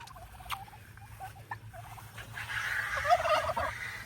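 Royal Palm and White Holland turkeys gobble on a farm in short, scattered calls. A louder, denser burst of gobbling rises near the end over a soft, steady background rumble.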